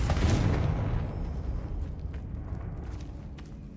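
A Confringo fire spell cast in Hogwarts Legacy bursts with a loud booming blast near a sarcophagus and altar, then a rumbling decay with scattered crackles fading over several seconds.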